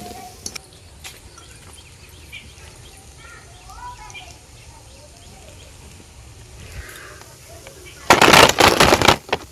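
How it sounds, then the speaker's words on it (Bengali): Crispy fried moong dal pakora is bitten and crunched up close: after a quiet stretch, a loud burst of crackling crunches fills the final second and a half. "আর এটা শুনলেন কতটা কড়কড়ে হয়েছে।"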